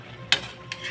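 A spoon scraping through squid adobo (adobong pusit) frying in a pan, two short stirring scrapes over a low steady sizzle, close and brief.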